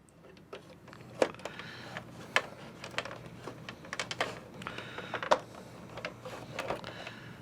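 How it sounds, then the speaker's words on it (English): Plastic clip on a car instrument cluster being pried loose, giving faint scattered clicks and creaks with a few sharper snaps at irregular intervals. "to unlatch that plastic clip"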